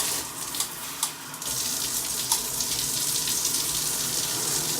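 A Pulse Kauai III handheld shower spray head in a home shower sends out a steady, close hiss of running water that continues without a break, with a few brief splashy spikes near the start.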